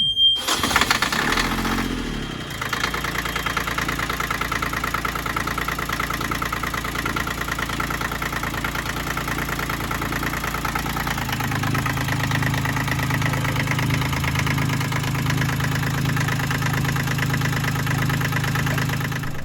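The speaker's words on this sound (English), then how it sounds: "Just about to start the engine up." A boat engine cranks briefly and catches, then settles into a steady idle. The note deepens partway through and the engine keeps running evenly to the end.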